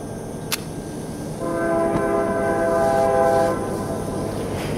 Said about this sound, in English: we pause a second and let the train go by